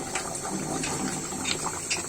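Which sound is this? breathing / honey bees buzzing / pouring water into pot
pouring water into pot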